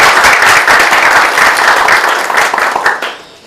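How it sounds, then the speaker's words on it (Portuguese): A loud burst of audience applause at a psychology and democracy event in Brazil, dense clapping at close range that holds steady for about three seconds before fading away. "Gostaria de pedir uma salva de palmas a ela também."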